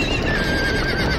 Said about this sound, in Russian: Еще лошади едут.